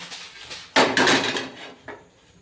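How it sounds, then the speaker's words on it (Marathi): A tava griddle is set onto a home kitchen stove with one loud, close metallic clank and a brief ringing scrape. A smaller knock follows a moment later. "मी इथं ठेवत आहे आता तावा"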